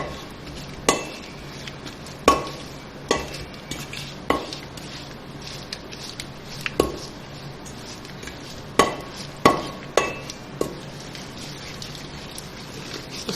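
A wooden masher stirring and pounding malai and peda in a metal pot for Punjabi lassi: a steady scraping churn punctuated by sharp irregular clanks against the vessel, close and without talk.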